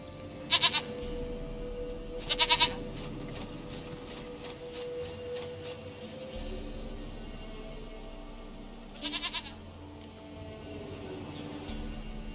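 A goat in The Witcher 3 lets out three short, tremulous bleats spaced several seconds apart over quiet outdoor game ambience with a soft rain-like hiss.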